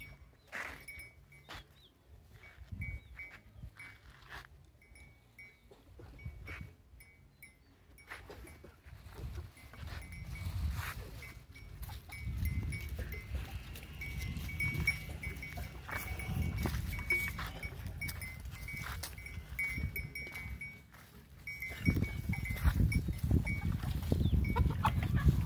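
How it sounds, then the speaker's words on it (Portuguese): Sheep on a farm being brought food, bleating and bells mixed with rustling feed and movement, growing busier and louder toward the end. "agora vamos botar comida para os carneiros"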